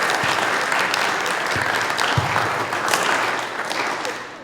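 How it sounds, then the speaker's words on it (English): An audience at a children's VBS program performance gives a full round of applause, steady dense clapping filling the room at a strong level, with a few sharper individual claps standing out before it begins to fade at the end. "let's give them one more round of applause"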